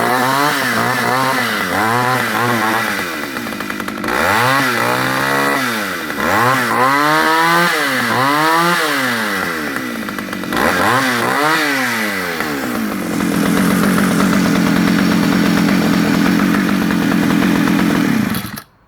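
A vintage Partner R16 55cc Swedish chainsaw runs loud and close, revving up and down repeatedly in sweeping bursts, then settling into a rough steady idle before cutting off abruptly.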